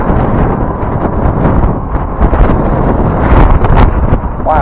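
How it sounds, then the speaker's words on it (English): Strong wind buffets the microphone during an e-bike ride, a loud, continuous rumbling roar that swells and gusts without a break. "it just suddenly got really windy"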